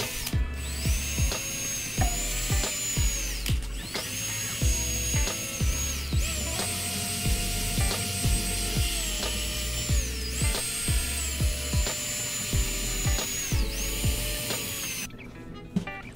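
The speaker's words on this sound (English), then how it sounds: "Got my buffing wheel here, got my all-in-one grease, and I'm just getting everything a nice buff before I start tuning." A motorized buffing wheel polishes snare drum hardware with a steady high whine, broken by repeated short thumps and shifts in pitch as parts are pressed against it. The sound is close and continuous, and no one speaks over it.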